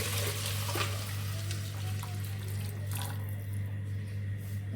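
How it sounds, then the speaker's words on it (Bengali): Boiled water poured into a spiced mixture in a pot on a kitchen stove makes a steady rushing splash that runs continuously under a low hum. "ফুটানো পানি দিয়ে দিচ্ছে"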